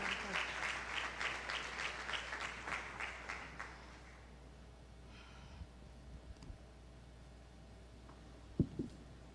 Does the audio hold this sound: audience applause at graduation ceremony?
yes